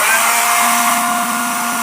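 A high-power hair dryer runs on a Bluetti AC50B portable power station's inverter output, giving a steady, loud whooshing roar with a faint motor whine that holds constant throughout.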